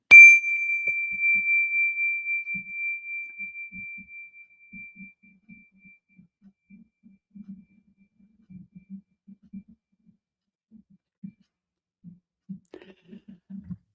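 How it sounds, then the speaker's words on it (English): A single mindfulness bell struck once, its clear ringing tone sustaining and slowly fading over several seconds in a quiet room, followed by faint low rustles and soft movement. "When you detect the vibrations of my bell, please allow your eyelids to float open"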